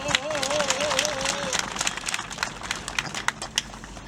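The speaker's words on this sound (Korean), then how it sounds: "힘찬 박수로 시작하도록" Clapping from attendees at a Seoul press conference calling for the Kaesong Industrial Complex to reopen, a lively burst of applause under a brief voice, tapering into scattered claps.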